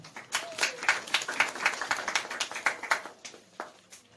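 Wedding guests clap for newlyweds just pronounced husband and wife, a small group's scattered, distinct handclaps in an uneven rhythm, fairly close and moderately loud, without a dense roar.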